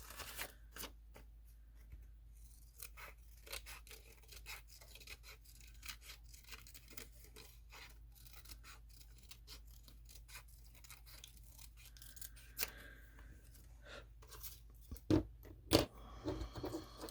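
Scissors snip through a traced felt shape, a run of short, quiet crisp cuts that come irregularly and briefly grow louder near the end.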